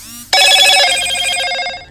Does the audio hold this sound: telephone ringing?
yes